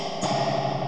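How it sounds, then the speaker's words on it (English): A spring on a DIY spring reverb is touched with nothing fed through it, giving a short metallic, boingy reverberant wash that swells and lingers for under a second. "just touch the spring without sending anything through"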